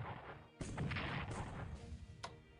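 An Italian tank fires on a Soviet tank at Brest-Litovsk in the Strategic Command: War in Europe strategy game. A heavy boom erupts after a brief lull and rumbles on, with a second sharp crack near the end.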